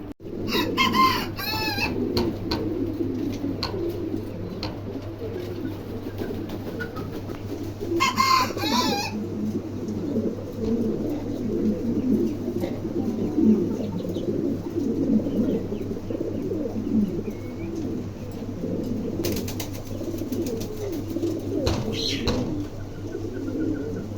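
Pigeons coo in a low, continuous murmur throughout a pigeon showroom, with a few brief louder bursts of flapping or rustling near the start, in the middle and toward the end, and no speech.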